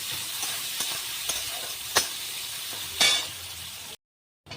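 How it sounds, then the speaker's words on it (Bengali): Sliced onions fry in oil with cumin in a wok, a steady close sizzle broken by sharp spoon clinks and scrapes, then a brief cut to silence near the end. "এই যে পেঁয়াজটা দিয়ে দিলাম। এবার পেঁয়াজটা একটু আমি ভেজে নেব।"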